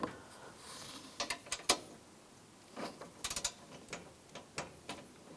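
A ratchet wrench snugs down the bolts on an AC condenser of a 2004–2009 Toyota Prius, giving close, faint clicking bursts in short irregular runs with brief pauses between them, with no talk.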